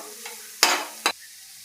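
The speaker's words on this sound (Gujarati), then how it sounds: "બધું શાકભાજી આપણે ધીમા ગેસે ચોળવાનું છે." Mixed vegetables are stirred in a pan over a low gas flame, giving two short scraping bursts over a soft, steady background sizzle.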